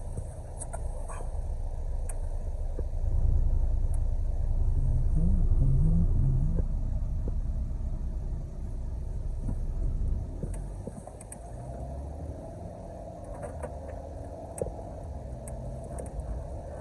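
Interior of a Mercury Milan 2.5 after a front brake pad replacement while it drives, with a low steady engine and road rumble that swells and eases, plus a few light rattles and no talking.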